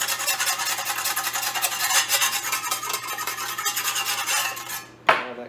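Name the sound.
brushing rust off a car's metal surface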